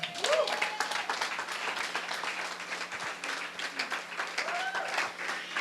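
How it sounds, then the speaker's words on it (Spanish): Church congregation applauding and cheering in praise, a dense steady wash of many hands clapping with voices mixed in throughout. "Dar un aplauso al Señor."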